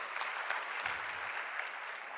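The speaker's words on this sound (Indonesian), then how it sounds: "Beri tepuk tangan buat Tuhan Yesus Kristus" A church congregation applauds at a sermon, steady mid-level clapping that holds evenly throughout with no voices over it.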